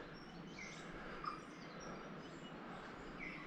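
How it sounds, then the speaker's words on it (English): Tui birds call in faint, distant chirps and short whistled notes, scattered across a soft outdoor background hiss. "You can hear the tuis."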